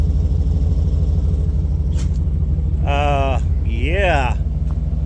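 A 1990 Chevy Silverado with dual exhaust runs at a steady, low idle rumble throughout, with someone talking briefly over it.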